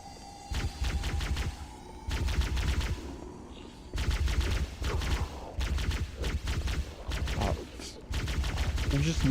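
Rapid automatic gunfire from the video game Halo: Combat Evolved comes in several sustained bursts of loud, dense shots separated by short gaps, over low game ambience.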